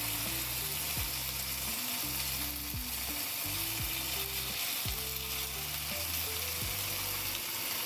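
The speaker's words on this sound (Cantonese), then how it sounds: "我哋而家可以開大火少少， 咁就容易煎得香啲。" Beef rice noodle rolls fry in a pan over high heat, a steady, close sizzle with bright crackling throughout and faint low tonal hum underneath.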